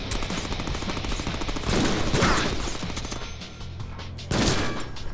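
Gunfire in the Deadpool video game, loud, dense rapid bursts of shots running throughout, with heavier bursts swelling near the start and again near the end.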